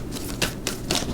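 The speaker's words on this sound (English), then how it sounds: "2 more shuffles." Tarot cards being shuffled in quick riffling bursts, several brief papery flutters at close range with short pauses between them, no talking.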